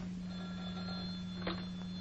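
An old telephone rings with a steady electric bell tone under a constant low hum, fairly quiet and continuous, without speech.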